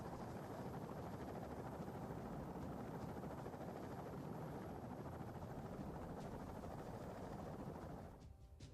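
Chinook helicopter in a video game set in Afghanistan, its steady rotor drone filling the scene loud and unbroken for about eight seconds before cutting off abruptly near the end.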